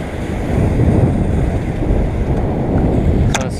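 Ocean waves and wind rush steadily around a sailing yacht on a passage from New Zealand toward Fiji, running on a single reef with the wind just aft of the beam; a broad, loud, continuous wash, with a brief creak near the end.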